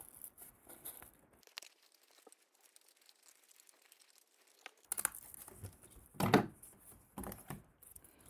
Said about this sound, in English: And then I can get my scissors in there and cut the middle out.